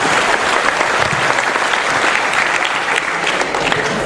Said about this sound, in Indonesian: Oke, tepuk tangan semuanya, Bapak Mahfud.